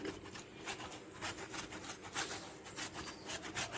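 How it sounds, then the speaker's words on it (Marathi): Cheese is grated by hand onto a pizza, a quick run of rhythmic rasping strokes against the metal grater, close and fairly quiet, with no voices. "असं किसनीच्या मार्फत तुम्हाला किसून टाकायचं आहे अशा प्रकारे चीज त्याच्यावर किसून घेतलेला आहे"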